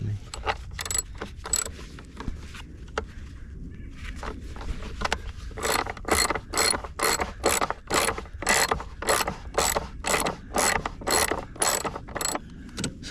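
Ratchet loosening the battery terminal nuts on a 2015 Mercedes-Benz C300 during a roadside battery change, a close, steady train of sharp clicking strokes, sparse at first and then fast and rhythmic, with no talking.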